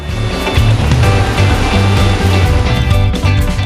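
Pha Dok Siao waterfall in Chiang Mai pours with a loud, unbroken rushing roar, close and constant throughout, with no voices over it.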